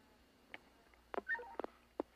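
Telephone dialing tones while calling a line back, five short touch-tone beeps at uneven intervals, close and clear over a quiet background hum.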